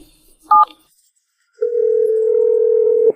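A steady telephone dial tone sounds alone for over a second after a short two-tone keypad beep, ending abruptly.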